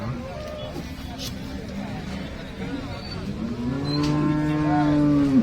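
Cattle low and moo amid a busy outdoor crowd at the Sangola cow market in Maharashtra, with a long, loud moo near the end over background chatter.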